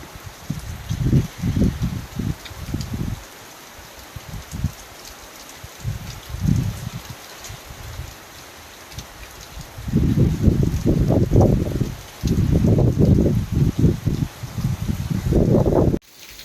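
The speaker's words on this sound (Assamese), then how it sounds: "আজি ৰাতিপুৱা 6টা বজাৰ পৰা পুৰা ধাৰাসাৰ বৰষুণ" Heavy rain falling in Guwahati, a steady broadband hiss that swells into loud, surging bursts of downpour and wind-driven gusts, with no voices.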